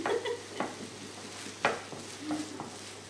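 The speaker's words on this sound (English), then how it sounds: "Potatoes go in. Lots of stirring in this part." Potatoes stirred in a cooking pot, with a few distinct scraping clinks of a utensil against the metal at irregular intervals over a low background hum, quiet and close.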